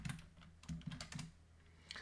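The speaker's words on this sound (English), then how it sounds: "Gotta type that first." Fast keystrokes on a computer keyboard during Haskell coding, a short burst of clustered clicks followed by a pause and a few more taps, close and fairly quiet with no talking.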